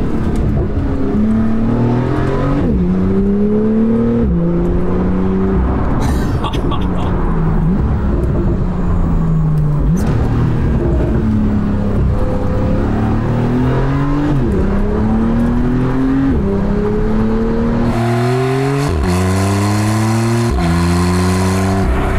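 A Porsche 911 Carrera 4 GTS (991.2) with PDK gearbox accelerates hard through repeated gear changes, with engine pitch climbing and dropping and blipped downshifts, loud and close from inside.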